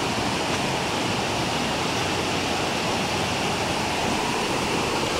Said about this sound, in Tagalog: Tapos, meron po ditong sapa.